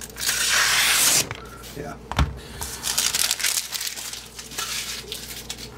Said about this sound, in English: Watch this push cut. Really watch the push cut.